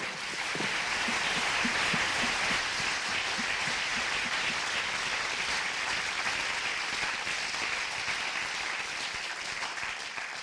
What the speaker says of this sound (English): Give him a warm applause, like you just did